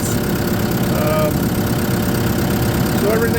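A John Deere 5985E tractor's interim-gear engine idles at around 950 rpm, a steady, close mechanical rumble with even vibration throughout.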